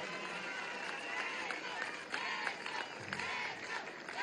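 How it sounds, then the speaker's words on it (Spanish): Crowd applause and cheering at a political rally for Nicolás Maduro's 2018 presidential election registration, a dense continuous roar of many people with no clear pauses. "Vamos a darle un aplauso a mi esposa Cilia Flores de Maduro"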